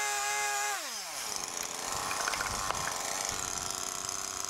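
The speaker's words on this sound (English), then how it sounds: "I switched over to using the Steel 181 chainsaw with an actual carving bar on it" A Stihl 181 chainsaw with a carving bar winds down from a high whine, then bites into a wooden block with a rough, buzzing cut, steady and fairly close.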